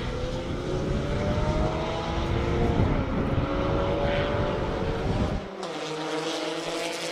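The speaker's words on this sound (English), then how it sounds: "It's also kind of weird hearing this car go down the front straight." A privateer-built, V6-swapped race car storms down the front straight at Circuit of the Americas during a Super Lap Battle: a loud, droning engine note whose pitch bends as it passes, then cuts abruptly quieter near the end.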